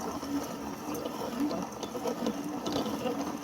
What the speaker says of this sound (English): once it grinds down, we're good to go. So let's grind some wheat together